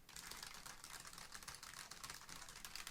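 Steady, rapid typing on a Logitech 915 TKL keyboard with tactile switches, a continuous patter of key clicks at moderate, slightly distant level with no voices.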